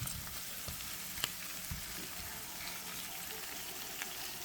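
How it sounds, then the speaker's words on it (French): Mutton pieces braise and sizzle in a frying pan with a steady, fairly quiet frying hiss and occasional soft pops and clinks, no voices over it. "venir retourner la viande pour qu'elle ait le temps de bien braiser sur toutes ses surfaces"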